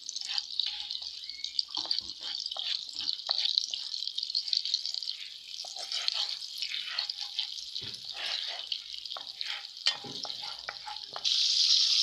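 Butter melts over medium heat in a pan for Korean twisted doughnuts, giving a steady close hiss of fine crackling and sizzling with scattered small pops and drips, growing a bit louder at the end.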